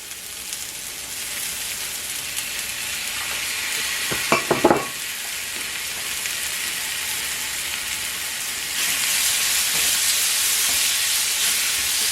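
Chopped kimchi and noodles stir-fry in a hot pan, making a continuous close sizzle with a brief burst of scraping and clattering from the utensil midway. The hiss grows a little brighter near the end, and no one speaks.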